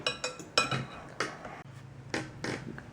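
A spoon clinks and scrapes against a bowl while ingredients are mixed in a home kitchen, sharp taps coming in an uneven rhythm, close and fairly quiet.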